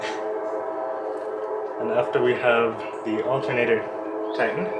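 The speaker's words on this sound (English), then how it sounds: "Sorry about the train." A passing train sounds a long, steady horn drone in the background while someone talks over it, explaining a car repair.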